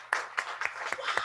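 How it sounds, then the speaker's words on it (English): A church audience claps for the children after a Christmas play, a short run of several distinct hand claps at a fairly quiet level. "We can give the kids another applause in your homes and here."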